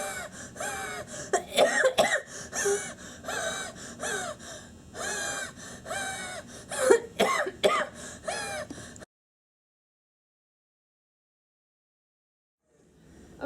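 A child with an asthma attack coughing, gasping and wheezing in a string of close, uneven bursts of breath and throat sounds, then the sounds stop into near silence.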